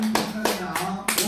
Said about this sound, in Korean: 박수 박수 박수 박수 박수